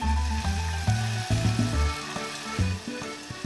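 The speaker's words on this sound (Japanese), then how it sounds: "お鍋にバター、すりおろした玉ねぎを炒めていくよ。" Grated onion sizzles steadily in butter in a pot, a continuous frying crackle under loud background music.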